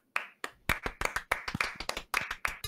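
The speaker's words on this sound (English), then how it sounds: "all of you hear the sound of people clapping their hands" Sharp, fairly close handclaps from a small group in a Minecraft roleplay scene, about a dozen loud irregular claps over a few seconds, with no talking.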